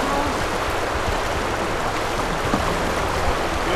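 Creek water rushes steadily around a kayak during a river crossing, a continuous close broadband flow with small splashes and no pauses.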